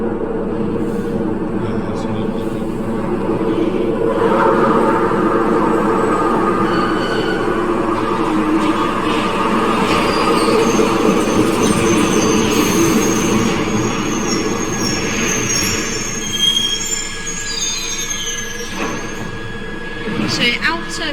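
Glasgow Subway trains rumble into a station with a continuous heavy low roar, squealing wheels and metallic clatter building and lingering over about twenty seconds, heard from the platform with people talking in the background.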